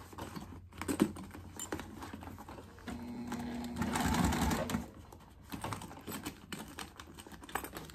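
A sewing machine stitches a fabric waist pack over a thick zipper gusset seam, giving a steady close mechanical whir with a strained tone and a few knocks, alone with no talk.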